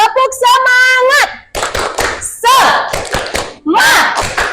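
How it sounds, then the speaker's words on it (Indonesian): Students chant and clap a rhythmic classroom spirit cheer, sharp bursts of hand claps in patterned groups with sung voices, loud and close, in short separated phrases. "Bisa tepuk semangat?"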